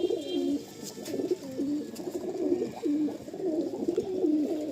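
Madrasi (Chennai) pigeons coo in a loft, a repeated soft throaty rolling call with a few overlapping birds, close and steady, over faint background noise and no talk.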